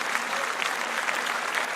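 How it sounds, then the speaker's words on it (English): Clapping on a sports and music podcast, a steady, dense patter of hands that sounds like a small crowd, even in level and fairly close, with no talk over it. "Let's clap that up."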